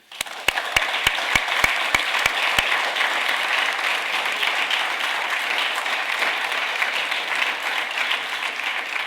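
A reception audience of members of a professional institute gives a sustained round of applause, dense steady clapping filling the room from start to finish, with a few sharper individual claps standing out early on.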